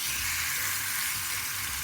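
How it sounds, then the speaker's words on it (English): Thinly sliced, seasoned jerk chicken breast frying in a pan, giving a steady, even sizzle throughout with no voices. "I'm gonna go ahead now and add it to the frying pan."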